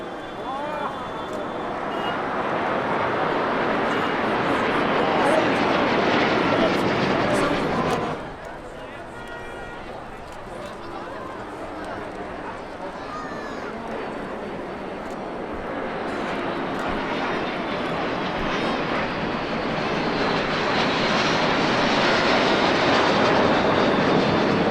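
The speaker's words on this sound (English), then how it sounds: "The team now starts the second half of their show with a downwards bomb burst" Baltic Bees aerobatic jets fly a downwards bomb burst at the Sichuan Airshow, their loud engine roar sweeping past, dropping suddenly, then building again as the jets separate, with a commentator talking throughout.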